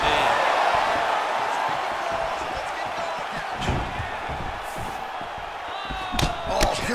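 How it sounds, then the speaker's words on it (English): Arena crowd noise from EA Sports UFC 4 during a fight between Israel Adesanya and Francis Ngannou, a steady murmur with sharp strike impacts, under a commentator's voice. "You hear this crowd just eating out of his hand, oohing and on every time he advances."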